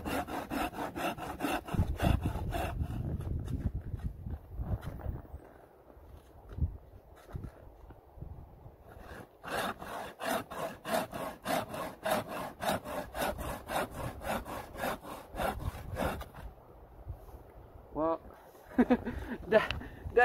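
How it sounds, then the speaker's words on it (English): Rhythmic back-and-forth strokes of a bending hand saw cutting wood, close up, with pauses between runs of sawing and occasional talking. "the saw was bending and when I was sawing"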